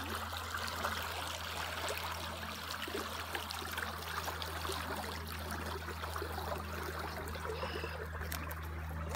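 River water flows steadily over a flooded bridge, a constant rushing wash with no break, fairly faint, over a low steady hum.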